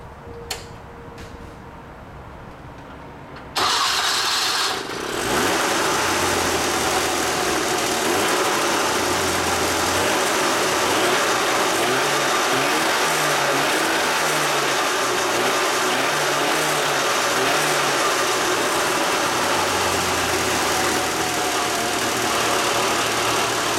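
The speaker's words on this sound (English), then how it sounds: "We'll start the motor up, let you listen to it run" A cold Vespa 400 engine on a test stand sputters to life after a few seconds of quiet rattling, then runs steadily with an uneven, popping idle, fairly close and loud.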